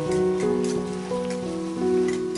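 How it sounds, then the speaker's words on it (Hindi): Onions fry in a pan with a steady, crackling sizzle, a dense patter of small pops over a faint hiss, close up with no talking. "प्याज को हल्का लाल कलर आने तक मैं इसे फ्राई कर लूंगी।"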